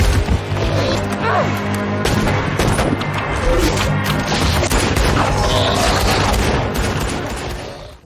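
Rapid bursts of gunfire crackle and boom loudly over a dense, chaotic film action-scene mix with a sniper on a cliff and horses shot, with voices faintly underneath.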